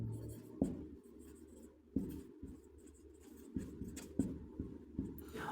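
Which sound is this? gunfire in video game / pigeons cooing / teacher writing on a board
teacher writing on a board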